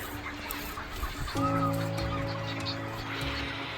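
At a busy heronry, storks and other large nesting birds give harsh honking, clucking calls over a constant outdoor din. A sustained nasal call stands out near the middle.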